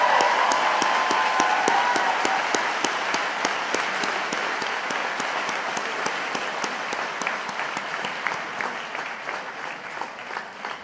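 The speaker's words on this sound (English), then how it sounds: "Can I please ask for a round of applause" An audience at a university graduation ceremony for dentistry and health faculties applauds steadily and fairly loudly, a dense wash of clapping that slowly thins out.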